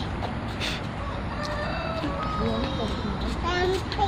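Chickens cluck on and off over a steady outdoor background on a shooting location, with several people and someone talking throughout.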